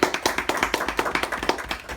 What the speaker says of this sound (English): I think everyone needs to give him a round of applause for his CC1.